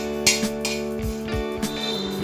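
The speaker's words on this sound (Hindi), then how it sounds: "अभी इस तरह से हम चलाते हुए इसे 1 मिनट तक भुनेंगे" Garlic cloves are stirred while roasting in a pan, with a few metallic clinks and scrapes of a utensil against cookware over a low steady background.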